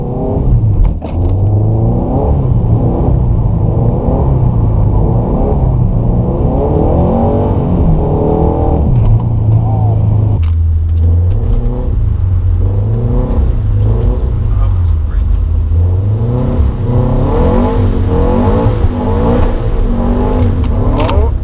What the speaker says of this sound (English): Here we go, first corner drift.